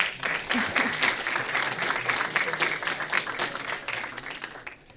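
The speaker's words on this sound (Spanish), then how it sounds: "Le recibimos con un fuerte aplauso" An audience at a conference talk on artificial intelligence greets a speaker with warm, steady applause, a dense even patter of many hands holding for several seconds and tapering slightly at the end.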